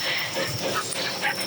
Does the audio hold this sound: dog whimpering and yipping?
yes